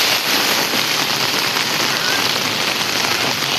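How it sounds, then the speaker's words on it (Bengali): Heavy rain pours down steadily at night in Kolkata, a dense, loud hiss of drops striking surfaces close by that continues without a break. "এখন বৃষ্টি একটু কমলেও তাও বেশি বৃষ্টি হচ্ছে আপাতত"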